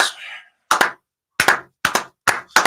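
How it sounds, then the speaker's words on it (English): Five slow, deliberate hand claps, sharp and close, spaced about half a second apart after a brief breathy hiss at the start. "You got a bunch of slow claps"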